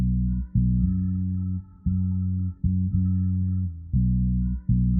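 Bass from a sampled beat filtered through an Air EQ lows-only preset, heard as loud, sustained low tones in chopped phrases with short gaps, all upper content stripped away and no voices.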